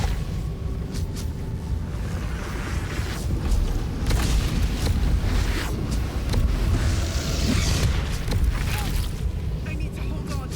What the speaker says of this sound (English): because this one's exploding